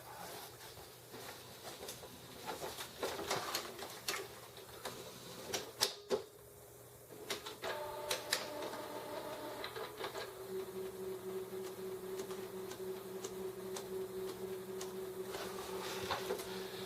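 Whirring, clicking mechanical sounds with intermittent clunks and a steady tonal hum as a brand-new Canon IX6850 inkjet printer primes for first use, carriage moving and motors running, close and moderate in level.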